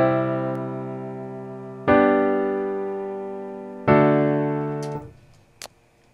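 Chord track played back in a DAW with triad and four-note voicings, three sustained chords struck about two seconds apart, each ringing and fading, ending with a few soft clicks.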